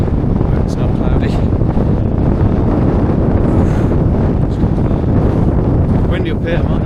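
Strong wind on a mountain summit in North Wales buffets the microphone in a constant loud roar with gusty rumbling, while faint bits of voice come through underneath.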